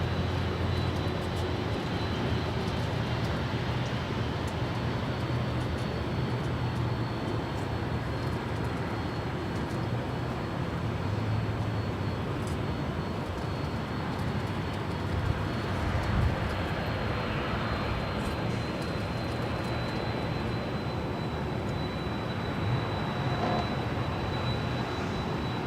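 A heavy jet departs Los Angeles International Airport, producing a loud, continuous engine roar and rumble that holds steady throughout, with no voices over it.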